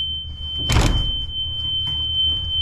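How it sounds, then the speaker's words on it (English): An old golf cart fitted with a new 36V lithium battery, switched on and shifted into reverse: a short clunk, then a continuous high-pitched reverse warning beep close by, with no talking. "Turn the golf cart on, put it in reverse."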